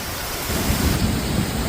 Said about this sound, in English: The downpour flooded streets